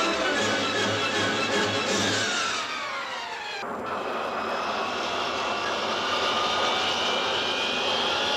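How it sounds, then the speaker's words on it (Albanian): A low-speed training airplane drones steadily overhead, its engine roar broad and continuous, with a brief dip and shift in tone midway, recorded for a 1971 Albanian Air Force film. "Sot ti flutron me avionin më të thjeshtë, të shpejtësive të vogla"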